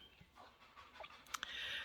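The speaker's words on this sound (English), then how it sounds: "If you hear Scarlett panting in the background, that's what that noise is" Soft, rapid breathy panting from a dog, faint and steady, with a couple of brief higher squeaky sounds near the end.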